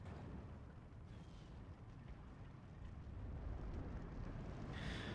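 Heavy 150 mm artillery barrage in the WWII strategy game Steel Division 2, a sustained low rumbling roar of distant blasts that swells louder toward the end, with no talk over it.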